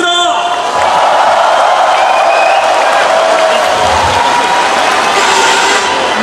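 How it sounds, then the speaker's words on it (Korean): Crowd applause and cheering at a Democratic Party joint campaign rally in the Chungcheong region, loud and sustained throughout, with scattered whoops rising over a dense wash of clapping. "여러분 힘찬 박수 다시 부탁드립니다."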